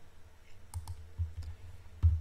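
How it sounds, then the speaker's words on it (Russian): Mouse clicks on a trading platform's software interface while setting bracket orders: a few sharp, quiet clicks spaced irregularly over a couple of seconds, close and alone against faint room noise. "Кликаем по области с брекет-ордерами."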